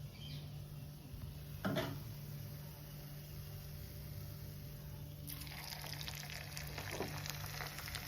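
Bread pakoda frying in hot oil for a street-style vettupan pakoda snack, a steady quiet sizzle and crackle running throughout, with a brief clatter near the start and livelier bubbling toward the end.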